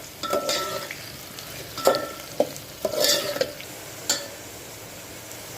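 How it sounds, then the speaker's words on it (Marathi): Onions browning in a pan for Maharashtrian masale bhaat, with a steady low sizzle broken by several sharp scraping stirs of a spatula against the pan, close and clear, no talking. "कांदा आता आपण चांगला होऊ द्यायचा आहे ब्राऊन होऊ द्यायचा आहे"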